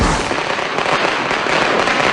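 Illegal firecrackers go off in the Philippines ahead of the Christmas season, a loud, dense, continuous barrage of overlapping bangs and crackles with no pauses and no voices.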